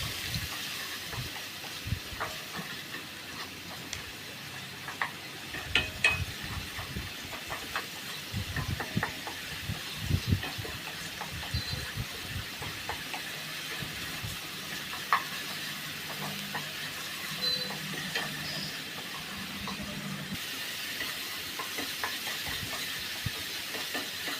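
Onion paste frying and being stirred in a pan, a soft continuous sizzle and hiss broken by light scraping stir strokes throughout.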